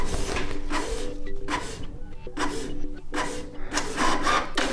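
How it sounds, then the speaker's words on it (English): A Canon Pixma TS 3350 inkjet printer printing, its print head sweeping back and forth in repeated rhythmic passes with a whirring, rasping mechanical sound, close and steady. "now as you can see, it's printing."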